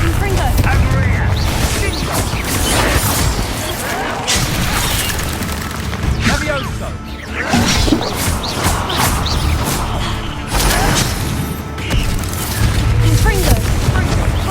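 Bombarda and Confringo spells in Hogwarts Legacy explode in continuous booming, crashing blasts through combat, loud and dense with repeated impacts and a voice shouting over them.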